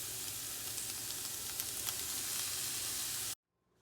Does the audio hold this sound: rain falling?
no